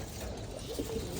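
Pigeons coo softly in a low, murmuring tone, only faintly audible beneath a steady wash of background noise, with one slightly clearer coo near the end.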